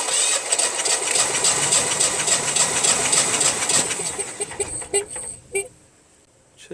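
Generac Honeywell generator engine, model 60341, cranking over with the fuel shut off during a compression test, a fast steady loud churning that runs for several seconds, then slows, sputters and stops into near silence.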